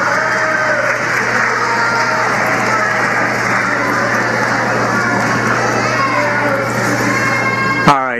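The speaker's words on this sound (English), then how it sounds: "Students, I want you to give your families a round of applause." Graduating students applaud their families at a Penn State Wilkes-Barre commencement, a loud, steady crowd roar of clapping and cheering that fills the whole stretch before ending abruptly.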